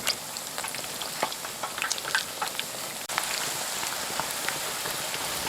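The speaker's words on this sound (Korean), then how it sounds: "튀김은 두 번 튀겨주면 바삭하기 때문에 한 번 더 튀겨내면 두릅튀김이 완성됩니다." Fatsia shoot tempura fries in hot oil for a second crisping, a dense crackling sizzle with scattered pops, steady and fairly close, with no talking.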